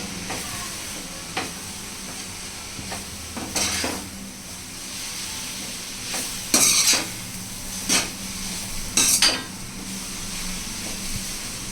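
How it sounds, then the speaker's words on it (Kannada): Momo filling stir-fried in a pan, with steady sizzling broken by repeated sharp spoon scrapes and clanks against the pan, close and alone without talk. "ಚೆನ್ನಾಗಿ ಫ್ರೈ ಮಾಡಬೇಕು ಇದನ್ನ."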